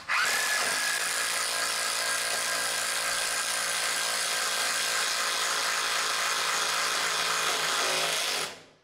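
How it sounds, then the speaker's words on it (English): An impact wrench fitted with a 1.5-inch bit drills a hole for PEX pipe, a loud, steady whirring grind that runs unbroken for about eight seconds and then stops abruptly, close and without speech. "this is an impact wrench that I'm using to drill this hole"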